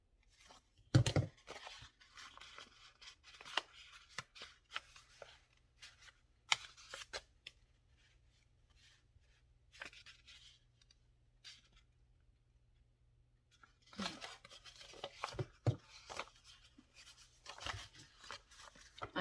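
Scissors snipping out a paper envelope for a skinny junk journal, irregular close crisp cuts and rustles scattered through a mostly quiet stretch, with louder busier bursts of cutting near the start and end, no voices.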